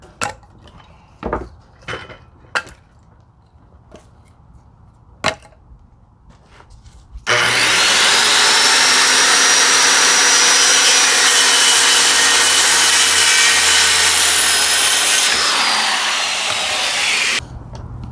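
A power saw cuts lumber for a wood shed, starting with a few scattered knocks and clatters before a loud, sustained whining cut runs for about ten seconds, then dropping in pitch as the blade spins down.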